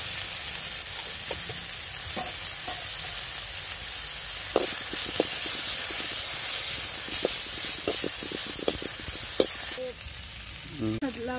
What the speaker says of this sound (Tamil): ஒரு ஸ்பூன் இஞ்சி பூண்டு பேஸ்ட் சேர்த்துக்கலாம்